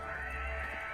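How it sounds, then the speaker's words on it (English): A cat meowing in The Witcher 3: Wild Hunt, one sustained tonal meow held for about a second at steady, fairly loud level. "Oh, Nibbles, you's a naughty kitty, aren't you?"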